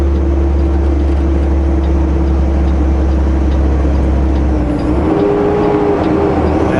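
Truck engine on a mountain highway drive dropping a gear, skipping one on the way down, a loud steady low drone whose pitch shifts and eases as the downshift happens near the end.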